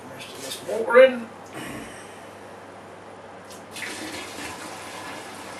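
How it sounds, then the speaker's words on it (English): Cold water gushes from a tap or hose into a vessel while brewing a dark chocolate stout, a steady close splashing flow with a brief louder surge near the start. "add the first 5 litres of cold water"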